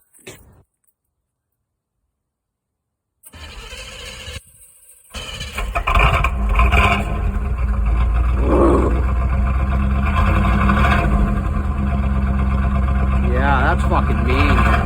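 A 1984 Camaro with a 350 V8 cold-starts after a short gap of silence, catching and settling into a loud, deep, rumbling idle that carries on steadily. Voices can be heard faintly over the engine.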